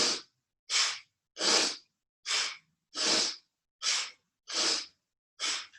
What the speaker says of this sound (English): Really take in the breath as deep as you can and really exhale out.